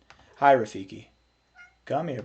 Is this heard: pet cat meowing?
yes